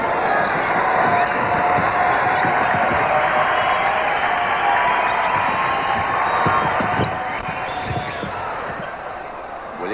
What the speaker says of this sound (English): the crowd still alive here in Seattle